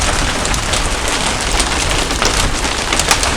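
Hail and heavy rain driven at an angle during an Idaho thunderstorm, a loud, dense, steady hiss of drops pelting and bouncing off surfaces nearby, continuous with no voices.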